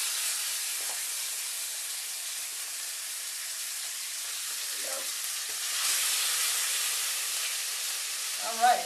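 Marinated chicken pieces fry in hot oil for a Malaysian coconut curry, producing a continuous loud, bright sizzle that swells slightly midway and ends with a brief clatter.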